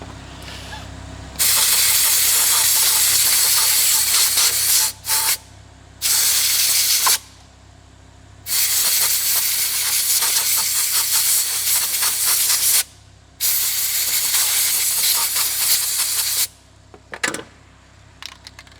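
Fast-acting electrical contact cleaner sprayed from an aerosol can while working on an Audi R8, several loud close hissing bursts of a few seconds each, separated by short pauses, with a final brief squirt.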